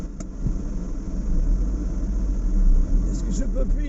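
A car engine runs at low revs while the driver struggles with the gears and nearly stalls, a steady low rumble that swells and dips, with a few faint clicks and knocks over it.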